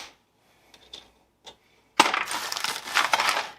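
Loose metal nuts and small parts clatter and rattle as hands rummage through trays in a garage workshop, a few faint clicks at first, then a sustained, loud jangling scrape.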